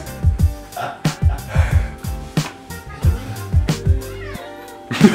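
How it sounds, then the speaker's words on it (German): A cat meows in a kitchen where brownie waffles are being made with a Belgian-style waffle iron. Short, close calls repeat among steady rhythmic thumps. "zufällig eine Katze in unserem Video"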